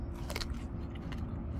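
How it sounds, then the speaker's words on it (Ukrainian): A few quick crisp crunches sound as teeth bite into a firm, underripe Leri Ann plum, close and alone without talk. "І він зараз хрумкий, от слухайте."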